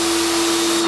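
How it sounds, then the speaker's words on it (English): A low-pressure pressure washer of the kind used to clean plastic grow-room walls sprays in a steady, loud hiss with a constant tonal hum beneath, running alone without talk for under a second. "It's the pressure washer."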